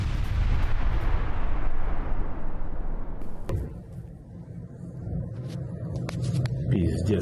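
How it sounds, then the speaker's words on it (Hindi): Cluster munitions burst in war footage, a dense rumbling roar of blasts and crackling that fades, then sharp cracks and further rolling booms from a distance, with a voice speaking over them. "Пиздец, кассетники."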